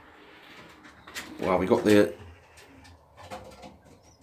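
Pigeons coo in a loft with a short burst of throaty cooing in the middle, close by, while someone speaks briefly over it.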